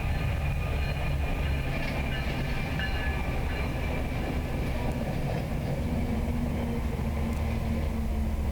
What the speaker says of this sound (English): the three boys make it through the train passing without a scratch